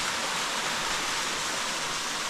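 Steady, loud roar of a waterfall, a continuous broadband rush of falling water with no breaks or voices, close and enveloping throughout.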